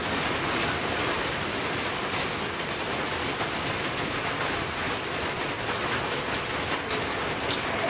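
Steady, dense broadband hiss of heavy rain pouring continuously, loud and even throughout with no voices.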